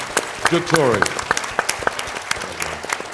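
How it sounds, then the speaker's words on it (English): Conference audience at an education and training event applauds two young people, sharp distinct claps in an uneven rhythm while a voice talks over them. "Can we give them a big round of applause?"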